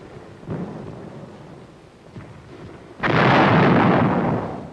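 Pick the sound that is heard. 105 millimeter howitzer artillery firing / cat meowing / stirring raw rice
105 millimeter howitzer artillery firing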